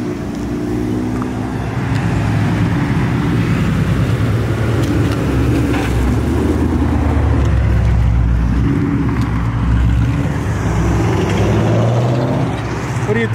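A 1996 Mustang Cobra and a V6 Camaro run side by side, their engines droning and rumbling steadily from a moderate distance, with people talking nearby over the continuous motor noise.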